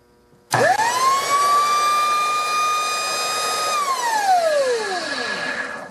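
An old Belden-made Skil circular saw, model 825 type 3 with a two-prong plug, starts with an abrupt whine that spins up and holds a steady loud motor tone, then winds down gradually after it is switched off.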